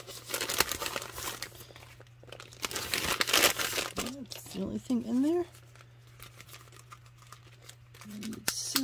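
Close, crisp crinkling of the plastic packaging bag of an XPPen two-finger artist glove in bursts, then a person speaks briefly before the rustling quiets to near silence.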